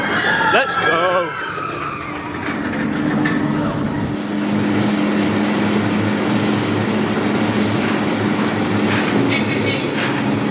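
Hyperia roller coaster at Thorpe Park on a quiet testing day, ridden in the front row: a brief voice at the start, then a loud, steady, close rumbling roar with grinding rail noise.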